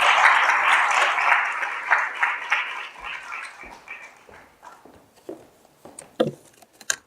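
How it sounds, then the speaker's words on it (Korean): Applause from an assembly audience at a founding general meeting, a dense clapping burst that thins into scattered, trailing claps. "다시 한번 박수 부탁드립니다"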